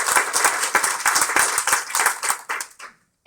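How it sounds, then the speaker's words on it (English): An audience applauds at a talk honoring Mothers Against Drunk Driving: a dense, steady round of clapping from many hands that tapers off and stops near the end. "I'd just like to give a round of applause to"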